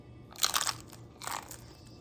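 Two crisp crunching bites of a crispy low-carb flatbread, close and quiet, the first louder with a crackly burst, the second a shorter snap a moment later.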